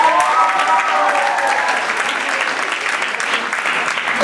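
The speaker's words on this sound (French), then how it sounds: "donc vous pouvez aussi les applaudir" A school audience at a student math conference claps warmly for two young presenters, a loud, continuous wash of applause that holds steady without any speech over it.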